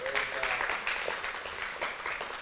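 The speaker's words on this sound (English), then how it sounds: "Clap for the Lord." Church congregation clapping, fairly faint and steady, mixed with voices throughout.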